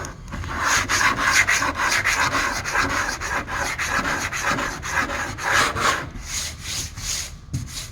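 Steady back-and-forth rasping of a sanding block working epoxy primer on the hood of a 1970 Chevelle, loud and close, with rhythmic strokes that continue for the whole stretch and no voices.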